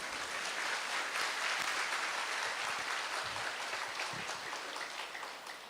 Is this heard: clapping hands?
yes